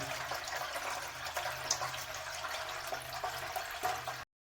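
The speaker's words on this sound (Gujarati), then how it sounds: "તપેલાની અંદર પાણી ભરવા માટે તપેલું મૂકી દીધું છે" Tap water runs steadily into a metal pot for boiling potatoes for wafers, a continuous close splashing rush that stops abruptly at the end, with no talking.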